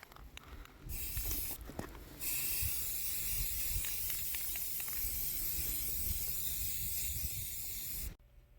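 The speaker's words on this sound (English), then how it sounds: "So yeah, let's spray paint them." Hissing bursts of a spray paint can coating craft pieces outdoors in the cold, a short spurt followed by a long continuous spray that stops abruptly, fairly close and alone.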